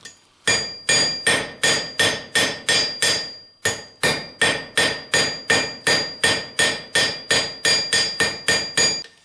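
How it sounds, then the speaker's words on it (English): Steady, rapid hammer blows ringing on hot metal at a blacksmith's forge, about two strikes per second with a short pause partway through, loud and close with no talking. "Just don't care about your hammer blows."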